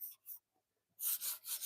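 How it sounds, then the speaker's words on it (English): Sandpaper rasps over a nail hole on a wooden speed bag drum, with two short strokes, a pause, then three louder back-and-forth scrubbing strokes up close. "See, I just sanded this nail hole."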